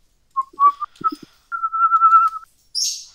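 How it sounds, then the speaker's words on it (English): A person whistles nearby during a drawing session: a few short, clear notes, then one long, steady held tone, and a brief breathy hiss at the end. No one speaks. "Stop whistling."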